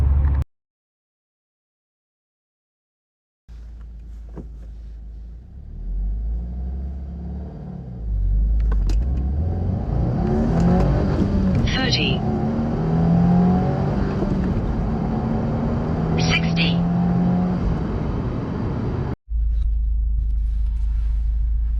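After a moment of quiet, a 2022 Subaru WRX engine starts and rumbles, then climbs steadily in pitch as it accelerates, loud and close.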